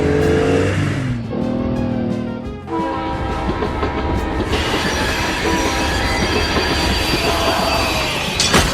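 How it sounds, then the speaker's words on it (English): A train rolls along rails under dense, continuous rumble and clatter, with a squeal of wheels near the start, a loud, steady mechanical roar throughout, and no speech. "Oh no! The train's on fire!"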